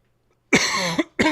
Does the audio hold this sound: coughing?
yes